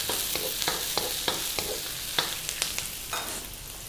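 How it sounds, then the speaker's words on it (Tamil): Onion and green chilli sautéing in hot oil, a strong, close, steady sizzle broken by regular scraping strokes of a spatula stirring the pan. "ஆயில் ஹீட் ஆன பிறகு ஆனியன், க்ரீன் சில்லி,"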